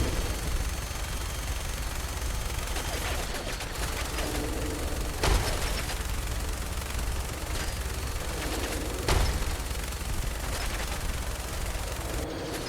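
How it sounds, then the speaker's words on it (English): Combat in Fallout 4 with grenades going off: a continuous, fairly quiet clatter of battle noise broken by two sharper blasts a few seconds apart. "Sir, please stop throwing grenades."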